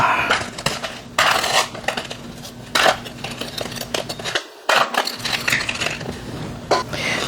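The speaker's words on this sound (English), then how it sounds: "Now I'm rolling it in regular sugar." Fried malasadas being rolled in regular sugar, heard as close, loud clattering and scraping of a bowl or pan, with irregular clinks and brief pauses.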